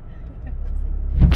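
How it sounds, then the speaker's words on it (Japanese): A car rolling slowly and bumping up onto a stone on a road near a shrine, a low rumbling drive capped by a short dull thud and scrape near the end. "石にゴンしちゃった。 石にちょっと乗り上げたぐらいです。"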